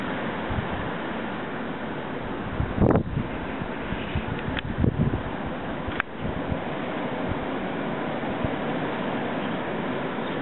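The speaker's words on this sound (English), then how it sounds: "There's some wind." Wind roars steadily outdoors during a Pennsylvania blizzard, a constant rushing hiss broken by a few gusty buffets against the microphone.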